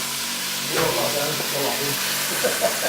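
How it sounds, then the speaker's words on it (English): Steady broadband hiss of fish frying in a pan for masala fish curry, with faint clinks and some voice nearby in the background. "Sizzling."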